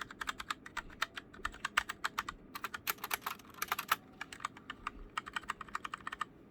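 A Drevo TE87 mechanical keyboard clicks in quick, irregular bursts of sharp keystrokes, close and crisp, with brief pauses between runs and no talking.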